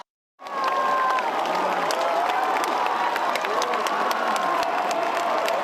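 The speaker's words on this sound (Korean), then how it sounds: "큰 박수로 격려해 주시기 바랍니다." Audience at a political party event applauds and cheers loudly and steadily, a dense crowd roar with some voices mixed in, sustained without a break after a brief silence.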